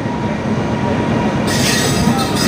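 A train rumbles steadily at Bangalore railway station with a broad roar and faint hiss of wheels, loud and continuous, with a brighter screech joining partway through.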